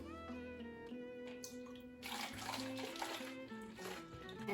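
Homemade ginger beer is poured from a small plastic jug into bottles, a faint trickling splash of liquid with a brief louder gush partway through.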